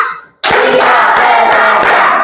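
A group plays a counted clapping game, bursting in after a brief pause with loud, close clapping and voices, with sharp group claps landing at regular intervals through a noisy, energetic crowd sound.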